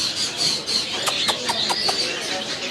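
Lory parrots in a pet shop give a quick series of sharp, harsh squawks over a constant background of chirping and hiss from other caged birds.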